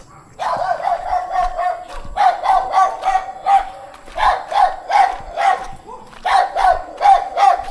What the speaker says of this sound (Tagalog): Mukhang maraming aso dito.